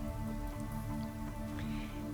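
Steady rain falls on a rainy weeknight, a soft continuous patter with scattered drips under a low ambient hum, faint and even throughout with no voices.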